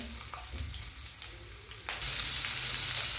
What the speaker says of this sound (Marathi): थोडस तेल सोडूया कमी गॅसवर त्याला भाजायचं आहे